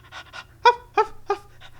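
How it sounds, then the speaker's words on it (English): A dog pants in quick, breathy bursts, close by, with a few sharper yelping catches mixed in and a low steady hum underneath. "Good dog."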